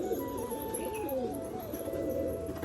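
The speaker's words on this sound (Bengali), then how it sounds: "এই যে কিন্তু পায়রা দুটো এক্ষুনি চলে আসছে আপনার সামনে" Soft, steady cooing from young black pigeons, joined by other pigeons in a loft, continuous and fairly near with a low murmuring texture and no talk.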